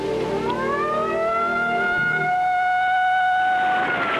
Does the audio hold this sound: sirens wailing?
yes